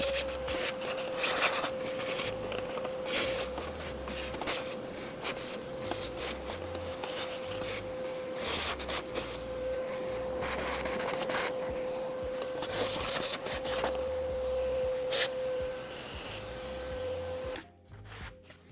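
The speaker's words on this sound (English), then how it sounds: "Leave it to hoover out under there as well." A vacuum cleaner hoovers inside a Honda Civic EK coupe with a steady whining drone, nozzle scrapes and rattles breaking through, before the motor cuts off abruptly near the end.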